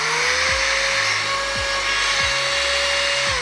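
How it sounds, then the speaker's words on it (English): A small handheld mini blower runs steadily and close, a continuous high whine with a hiss of air that holds level throughout, plus a few faint knocks. "It's a little mini blower."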